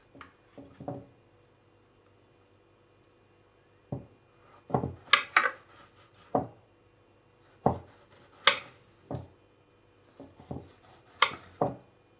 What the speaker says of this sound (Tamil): ஒரு ஷார்ப்பான நைஃப் எடுத்து இது மாதிரி நல்லா கீறிக்கணும் எல்லா சைடும்.